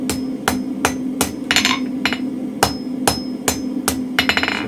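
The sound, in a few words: gentle hammer taps closing up a mild steel spring fuller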